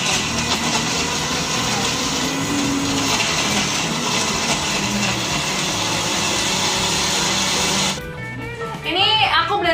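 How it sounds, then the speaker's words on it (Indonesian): A kitchen blender grinds guava with no added water, a steady loud whir running for about eight seconds before cutting off, followed by brief rattling and a voice talking. "Ini aku blender gak pakai air ya, jadi si buah jambunya sendiri kan udah ada airnya."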